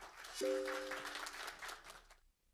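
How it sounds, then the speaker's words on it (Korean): An audience applauds at a Sogang University forum on government-funded innovation projects, a steady patter of clapping that carries on for about two seconds and then quickly dies away. "큰 박수 부탁드립니다."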